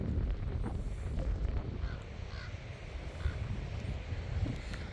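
Crows cawing as they harass a coyote outdoors, faint and fairly distant calls scattered over steady wind rumble on the microphone.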